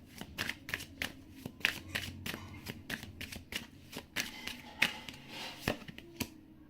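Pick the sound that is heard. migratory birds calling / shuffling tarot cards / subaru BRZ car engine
shuffling tarot cards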